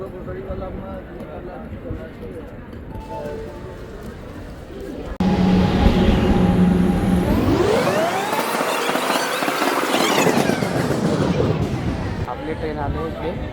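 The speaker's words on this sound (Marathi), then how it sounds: "आपली ट्रेन आली इथे." A train pulls into a station with a rising rumble that turns into a loud, long metallic squeal of brakes, close and continuous, with a voice heard faintly early on.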